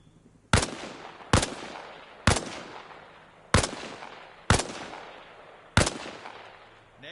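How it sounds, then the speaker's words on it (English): Rifle shots from a kneeling position in the Arma shooting game on PS5, six loud sharp single reports at irregular spacing, each with a decaying echo tail and no talking. "Only this time, fire from a kneeling position."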